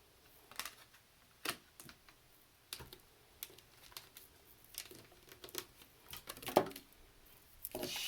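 Tarot cards are shuffled and dropped in a quiet room, a string of soft, scattered slaps and riffling clicks spaced irregularly, with a sharper flurry near the end.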